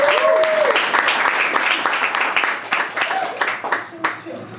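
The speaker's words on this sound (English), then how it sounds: "give yourselves another round of applause." Audience applause and clapping fill a comedy show venue, loud and dense at first, then thinning into scattered claps toward the end, with a few voices and cheers mixed in.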